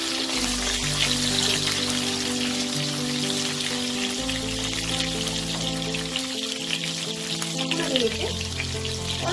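Diced pumpkin and eggplant fry in a pan in a Bengali home kitchen, giving a steady, close sizzle with crackling spatter that runs continuously, while a low hum and tonal background sound sit underneath.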